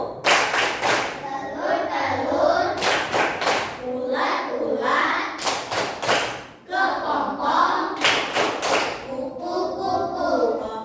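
Children in a classroom perform a butterfly clapping chant during an ice-breaking game, bursts of rhythmic group claps alternating with sung chanted lines, repeating in several cycles.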